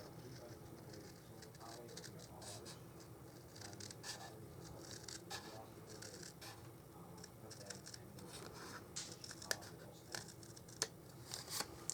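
Scissors snip through stamped card stock to cut it in half, with a run of soft, close crisp cuts and rustles at low volume and a few sharper snips toward the end, while a voice speaks quietly.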